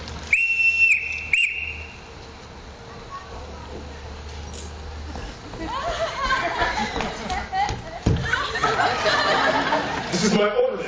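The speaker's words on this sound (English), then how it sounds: "Everyone in this house answers to a whistle." A whistle blown inside a house to summon the household: a loud, steady tone near the start, then scattered commotion, voices and footsteps build up.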